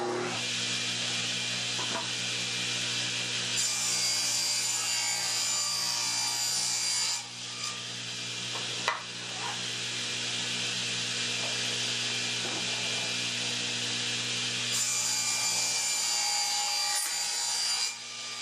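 A table saw cutting wooden drawer backs to height for a vegetable bin: a loud, steady whining rip through the wood that runs continuously, briefly dipping between passes before resuming, with no talking.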